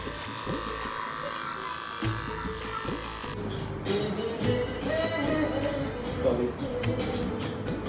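Electric hair clipper buzzing steadily through a home haircut, running continuously throughout under close, ongoing conversation between people nearby.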